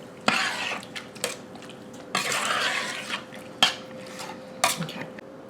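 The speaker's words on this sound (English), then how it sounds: "I'm going to stir this up and I'm going to let it cook until it starts to get thick" Cherry cobbler filling is stirred in a pot, with repeated bursts of a spoon scraping and sloshing through thick fruit and several sharp clinks against the pot rim, close up and with no talk.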